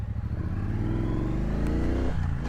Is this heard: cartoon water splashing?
no